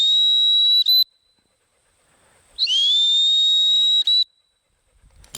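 A dog trainer's hunt whistle blows during duck dog handling work, two loud shrill tones: a short blast, a pause, then a longer rising trill, each ending abruptly before silence.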